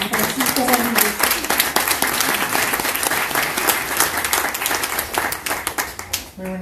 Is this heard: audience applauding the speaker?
yes